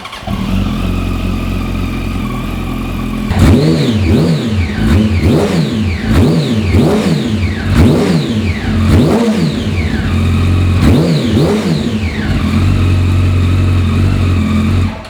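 A 2008 Yamaha R1 JJP edition sport bike with about 1,700 miles fires up and idles loudly close by, then is revved repeatedly in sharp, evenly spaced blips that rise and fall over a steady idle.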